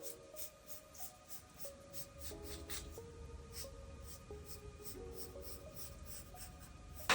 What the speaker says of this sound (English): I'm going to draw the curve.